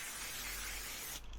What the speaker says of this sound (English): We've got our spray here, and it's a leather or vinyl spray, specialist for this sort of thing.